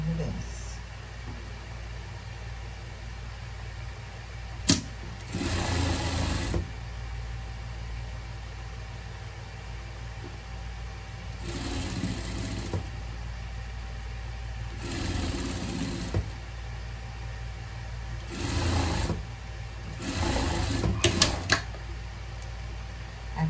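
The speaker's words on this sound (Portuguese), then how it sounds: "E aqui vamos passar na costura de segurança." Sewing machine running a safety seam while making a pet turtle costume, heard as several close bursts of fast mechanical stitching hum, each a second or two long, over a constant background drone.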